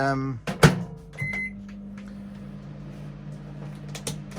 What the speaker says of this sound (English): we're using this microwave for the first time